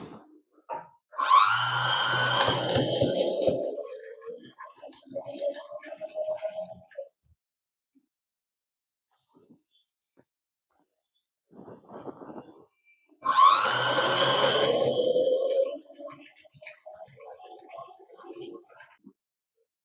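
A sewing machine stitches pleats on a peplum top made from an old kurti in two loud bursts of a couple of seconds each, separated by quiet handling noises and near silence.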